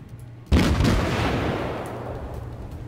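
Naval gun salvo in the warship video game World of Warships: a single loud, sudden boom after a brief quiet, followed by a long rumbling decay, with no voices.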